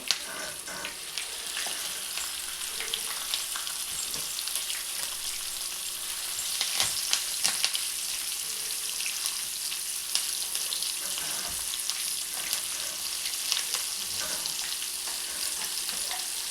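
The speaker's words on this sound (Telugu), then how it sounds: "ఇప్పుడైతే చేప ముక్కల్ని ఆయిల్లో వేస్తాను." Pieces of spiced fish frying in hot oil in a pan, a dense continuous sizzle with crackling spatters and a few soft knocks, close and even throughout, without any talking.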